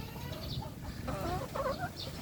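A Lemon-breed hen clucks in short, throaty bursts, close by, over a steady background hiss.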